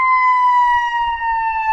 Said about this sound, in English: That's an electronic Q siren that's going off right now.